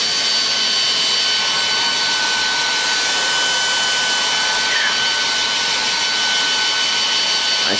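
A Philips Active Cool 1650 HP3462 hair dryer blows close by with a loud, steady, high-pitched whoosh that stays constant from start to finish, with no talking.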